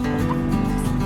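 Backyard chickens near a garden of cornstalks and pumpkins cluck loudly and close in a brief, dense burst of overlapping fowl calls.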